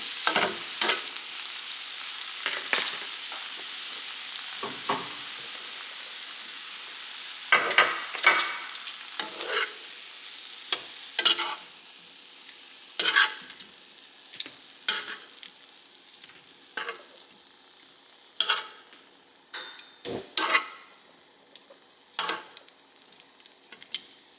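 Shrimp with lemon juice sizzle and are swirled around in a hot pan. Bursts of stirring and scraping come in an irregular rhythm over a soft, steady fry, close by, with no talking.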